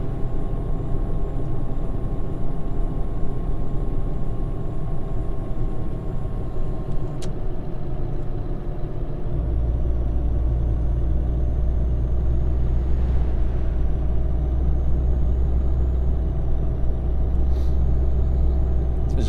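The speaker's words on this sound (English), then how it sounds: "This truck is the Scania 4." A heavy Scania truck engine drones steadily in a trucking video game, with a deep low rumble that swells partway through and continues without pause. No one speaks.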